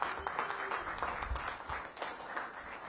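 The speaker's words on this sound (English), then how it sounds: "So please give Leona a big round of applause." Audience applause at a downtown housing program launch event with the DC mayor, a steady wash of clapping from a crowd held at an even level for the whole stretch, with no voices over it.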